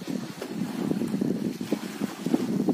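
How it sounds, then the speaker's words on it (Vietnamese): Wind buffets the microphone during a raft crossing of a highland river, giving a steady low rumble with gusty thumps and faint water wash underneath. "Ui gió."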